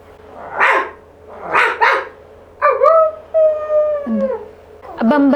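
A voice imitates a dog, first with a few rough barks, then with drawn-out whining howls and a final yelping bark, loud and close.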